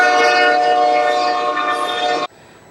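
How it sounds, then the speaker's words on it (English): A train passes on tracks about twenty feet away from a parked RV, a loud, steady rumbling roar with a sustained horn tone that cuts off abruptly near the end, leaving quiet. "as we parked, a train went by"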